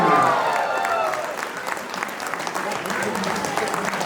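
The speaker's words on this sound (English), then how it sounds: "Take a round of applause." Crowd applause at a Telugu club Ugadi celebration in Durham, Canada, greeting Pierre Poilievre, loud and sustained with cheering voices mixed in, steady throughout.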